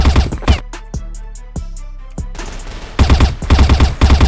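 Rapid bursts of video game gunfire in a first-person shooter match against a cheater, with automatic fire in loud clusters separated by single sharp shots and brief pauses, close and dominant without talk.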